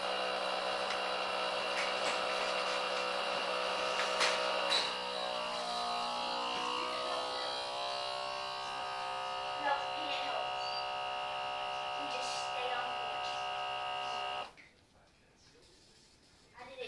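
A vacuum sealer works on bags of processed deer meat, a steady electric buzzing drone with a shifting pitch as the air draws out, stopping abruptly near the end.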